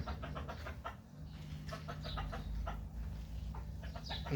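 Chickens kept as a hobby in a cage in Qatar cluck softly, a string of short, quiet calls over a low background hum.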